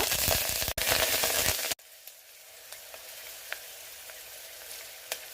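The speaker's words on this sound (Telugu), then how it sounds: "ఒక కడాయి పెట్టుకొని వేడయ్యాక కొంచెం ఆయిల్, ఆవాలు, జీలకర్ర, మిర్చి" Mustard seeds, cumin and chillies hit hot oil in a kadai. A loud, close sizzle lasts under two seconds, then cuts abruptly to quiet with scattered soft pops.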